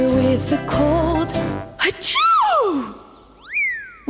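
A cartoonish sneeze effect for a spider with a cold in a kids' song, a sharp burst followed by a springy sliding boing, loud over bright music.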